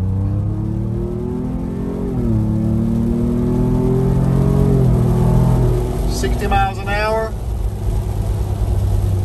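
Inside a 2021 Ford Bronco with a ROUSH performance exhaust in sport mode, the engine revs and rises in pitch as it accelerates, with a downshift midway; someone speaks briefly over the drone.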